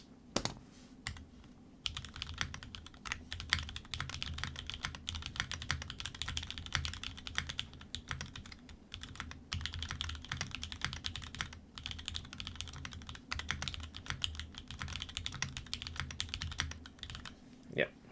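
Steady typing on a Ramaworks Thermal mechanical keyboard with Cherry Hyperglide switches, giving a continuous run of close, quiet keystroke clacks. The space bar is slightly rattly, and there are occasional heavier thocks.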